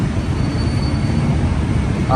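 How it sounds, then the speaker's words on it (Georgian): A Bangkok metro train runs with a steady, dense rumble and a faint high whine; a voice briefly starts at the very end. "ეს არის ბანგკოკის მეტრო."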